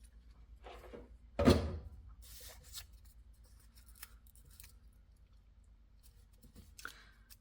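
Scissors snipping paper scraps for flower making, one sharp close cut followed by softer rustling and a few quieter snips.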